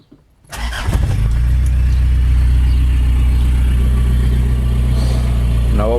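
A JDM project car's engine fitted with a deeper exhaust starts after a brief quiet moment, then idles with a loud, steady low rumble for the rest of the clip. There is no talk over it.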